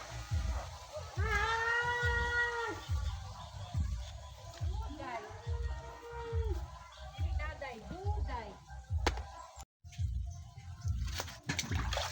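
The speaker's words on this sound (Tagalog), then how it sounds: "Kalabaw. Naghahanap ng kasamahan niya." A water buffalo bellows in long, drawn-out calls several times, close by, over splashing water and background noise.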